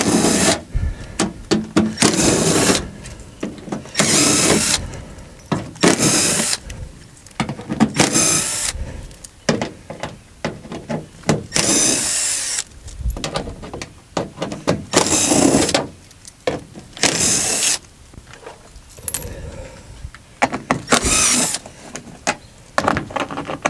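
A power tool with an 8mm socket removes wheel liner bolts on a 2017 Ram 1500 4x4 truck, sounding as repeated loud bursts of whirring and rattling separated by short pauses, close up and with no talking.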